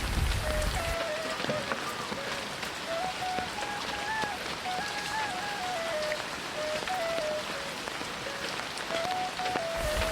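Rain falls on a village fish pond, where a boat is filling with rainwater. A soft, even patter of drops hangs under a wavering high melodic tone that drifts on and off throughout.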